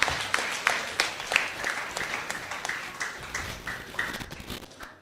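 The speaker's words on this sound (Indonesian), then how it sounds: "Tapi jangan tepuk tangan dulu" Audience applause at an investment seminar, with scattered, fairly close hand claps and sharp individual slaps over a softer bed of clapping that rises and falls at low volume.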